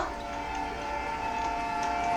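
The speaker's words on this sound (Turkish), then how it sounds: "Bir tren mi?" A train rumbles past in the Roblox game The Maze & Tunnels Train, a steady droning mechanical roar with sustained tonal hum, moderately loud and continuous, with no talk.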